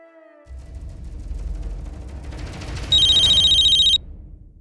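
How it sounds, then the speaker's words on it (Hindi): A telephone rings once with a bright, electronic trill lasting about a second, loud and close, rising over a low background hum that continues after it stops. "इतनी रात को सनीदा मुझे क्यों फोन कर रही है?"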